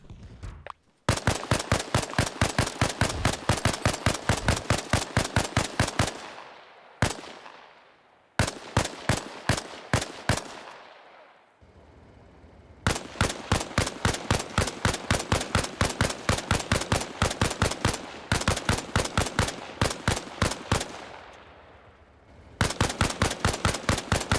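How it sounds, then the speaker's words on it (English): An M16 rifle firing FMJ rounds at a BTR armoured vehicle in the video game Arma Reforger. Rapid automatic bursts of loud, sharp shots follow one another over several seconds, with short pauses and ringing tails between them. "we'll use our trusty M16 with standard FMJ ammo"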